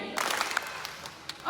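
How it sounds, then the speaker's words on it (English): Scattered claps from a sea lion show audience trying one single clap together, a loose spread of faint hand claps rather than one sharp unison hit, with a few stray late claps. "let's do one single clap"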